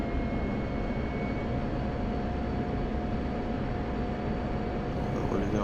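An F-16 jet drones with a steady, loud engine roar and airflow noise during landing approach in the DCS flight simulator, unbroken throughout with a faint tone change near the end.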